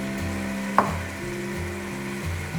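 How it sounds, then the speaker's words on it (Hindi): Masala and peas fry in a pan for aloo matar pulao, a soft steady sizzle near the mic with one sharp clink of a utensil early on and a low background hum, no talking. "मसाला फ्राई हो गया।"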